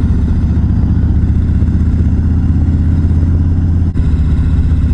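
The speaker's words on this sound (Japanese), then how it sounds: "アイドリングの音を聞かせたいんだよな。" A motorcycle fitted with a Rinehart slip-on muffler idles steadily up close, a deep, continuous low rumble with a brief dip near the end and no talking.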